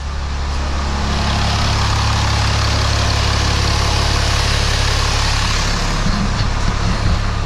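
Cummins 6.7 diesel truck engine idling steadily while warming up in a garage, a continuous loud low rumble with constant level throughout and a few faint knocks near the end.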